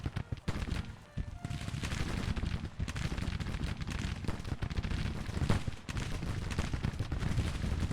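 Massed infantry brigades exchange fire in a Civil War strategy game, a continuous crackle of volleys and scattered musket shots with occasional heavier booms, rolling on steadily at moderate loudness.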